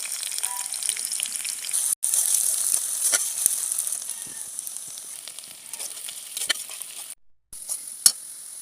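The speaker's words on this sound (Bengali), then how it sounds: "আমি পেঁয়াজটা বেরেস্তা করে নেব" Sliced onions fry in hot mustard oil until browned, for an egg korma. A loud, continuous crackling sizzle fills the space, with spatter pops and two brief silent breaks.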